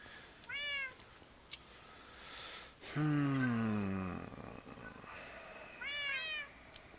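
Cats in a Minecraft modpack give several clear, close meows, including one longer, lower drawn-out cry between two shorter high ones, over a quiet background.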